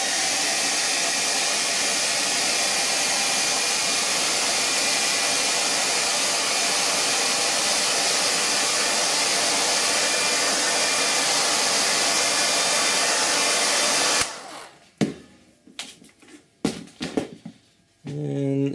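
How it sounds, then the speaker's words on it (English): A hand-held blow dryer runs loud and steady for about fourteen seconds, drying paint on custom statue wings, then cuts off, followed by a few faint knocks and handling sounds. "get a little blow dryer."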